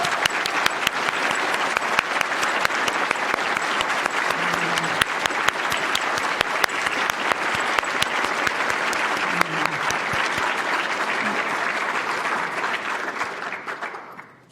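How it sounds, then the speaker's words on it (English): Sustained applause from a large audience at an awards ceremony honoring 2020 and 2021 award winners, dense and steady for about twelve seconds before tapering off at the end. "please stand up so we can give you a rousing round of applause"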